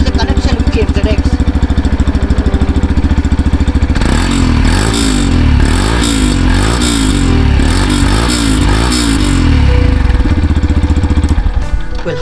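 Yamaha FZ-X motorcycle exhaust with a deep, bassy note, idling steadily and then blipped through several quick revs in a row before settling back to a low idle, loud and close.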